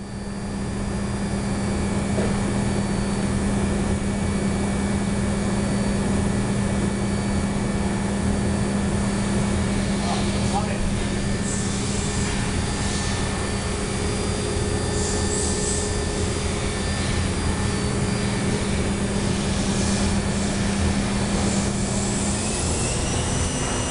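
An Okuma MB-5000H machining center spindle runs at 12,000 RPM, a loud, steady mechanical whine and hum with a sustained tonal drone that holds evenly for around twenty seconds, with no voices.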